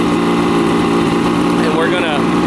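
A 1976 Mercury inline outboard motor runs steadily while warming up, a loud, continuous mid-pitched engine drone with a faint rising whine near the end.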